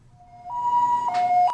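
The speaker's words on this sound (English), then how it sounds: "Ambulances come and go, carrying ailing COVID patients to hospitals." A nearby ambulance siren carrying COVID patients rises into a clear two-tone wail, switching pitch once, with faint traffic beneath.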